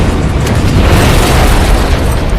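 A huge, sustained explosive roar fills the clip, dense and rumbling at full loudness with no letup.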